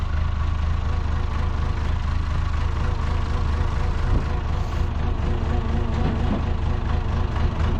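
A big International Acco 1830B truck engine runs at a steady idle, a loud low rumble that holds constant throughout with no voices.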